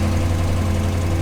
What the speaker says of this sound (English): Look at that, it's holding idle.